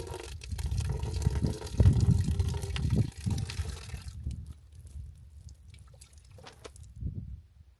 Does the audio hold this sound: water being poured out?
yes